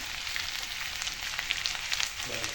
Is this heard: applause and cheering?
no